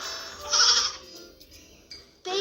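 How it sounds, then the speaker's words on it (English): A baby goat bleats in a children's phonics song, a loud wavering cry near the start followed by quieter calls and a short sharp bleat at the end, close and clear. "Isn't the baby goat naughty?"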